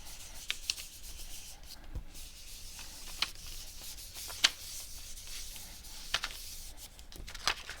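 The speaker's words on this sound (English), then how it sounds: "I'm going to go in with the grid paper and rub it, especially at the edges, to help make sure it's on there nicely." Grid paper being rubbed over cardstock for a handmade fall-themed card, soft close scratchy rubbing strokes with small taps and clicks scattered throughout, no voices.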